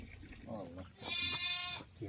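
A goat on a farm lets out one loud, harmonic bleat lasting under a second, close by, after a stretch of quieter background sounds.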